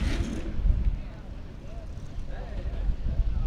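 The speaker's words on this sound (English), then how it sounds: "You cannot hide horsepower when you hear that engine drive through." Off-road race vehicle engine rumbling past during qualifying at the King of the Hammers desert event, a low steady roar buffeted by wind noise, moderately distant and sustained.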